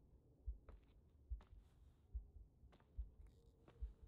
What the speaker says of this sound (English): Is that her heart beating?